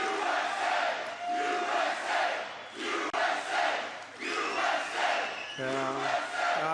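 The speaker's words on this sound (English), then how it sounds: "That's a big crowd." A big crowd at a political rally cheering and chanting in loud rhythmic waves that swell and dip repeatedly, close and filling the space, with a brief voice near the end.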